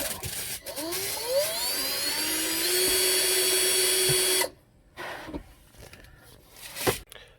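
A power drill bores holes for Jeep Grand Cherokee WJ rock sliders, its motor whining and rising in pitch as it bites steadily for several seconds, then cutting off abruptly into quieter clanks and handling noise.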